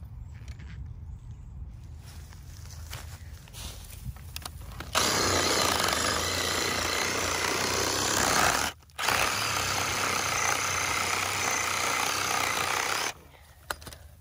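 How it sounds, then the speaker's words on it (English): A Sawzall reciprocating saw cuts steadily with a loud, buzzing roar that starts after some quieter handling, pauses briefly midway, then continues before stopping near the end. "I'm gonna get a Sawzall, hold up."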